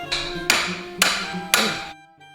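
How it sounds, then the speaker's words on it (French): A pneumatic chisel on a crash-damaged Range Rover SVR hammers at a seized part in three loud, evenly spaced bursts about half a second each, with metallic ringing between, then stops. "On a essayé la chaleur et le burin pneumatique à nouveau, mais ça ne bougeait toujours pas."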